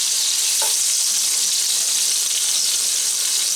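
Flour-coated meatballs browning in a pan over low heat give a loud, even hiss that fills the whole stretch, with one brief knock near the start and no talking.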